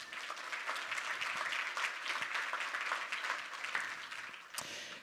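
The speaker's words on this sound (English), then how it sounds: "So let's give them a round of applause." Keynote audience at a game developers conference applauds steadily for about five seconds, a dense even patter of clapping heard from within the hall, tapering slightly near the end.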